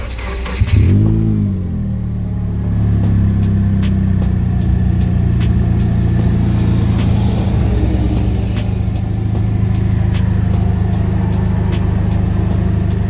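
A BMS T1500 Sniper four-cylinder, five-speed UTV engine starts with a brief rise, then settles into a steady, loud, close idle rumble that holds throughout.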